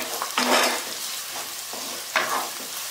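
Crushed shallots fry in oil for a home-style prawn roast, with a spoon scraping through them twice over a close, crackling sizzle.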